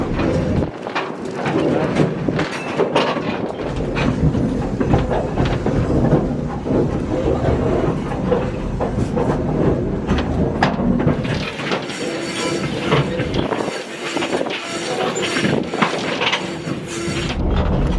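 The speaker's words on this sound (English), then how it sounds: "The train is going so slow" A train rolls slowly along old tracks in Georgia with steady rumbling and occasional clacks and squeals, while a person talks nearby and birds coo faintly.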